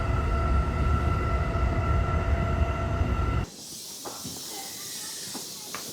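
A commuter train approaches Abiko station in Japan with a loud, steady rumble and hiss. The sound cuts off abruptly partway through to a quieter interior with faint clicks and bumps.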